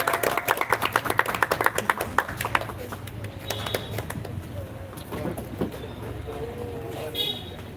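Brief audience clapping at an English speech contest, a quick run of sharp claps in the first couple of seconds that thins out, followed by faint room noise and scattered sounds.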